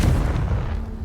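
A Confringo fire spell blast in Hogwarts Legacy erupts as a single loud, heavy boom with a deep rumbling body that decays over about a second, with no talk.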